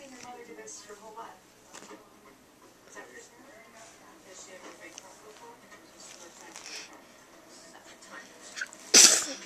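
A single sharp sneeze bursts out loud and close near the end, after several seconds of quiet indoor talk.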